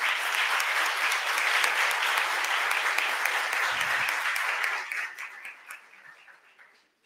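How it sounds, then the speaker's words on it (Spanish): Audience applause at a university journalism master class, a broad even wash of clapping that holds steady and then thins out and fades over the last couple of seconds. "Aplausos para él también."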